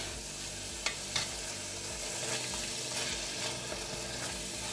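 Ombidi, a Namibian leafy green dish, is stirred in a pot over heat, giving a dense continuous sizzle and bubbling with a few soft utensil knocks early on.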